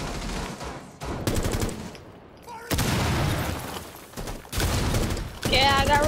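Flashbang grenades go off during a Rainbow Six Siege match, amid bursts of rapid gunfire and booms. Near the end a sharp, high ringing tone sounds.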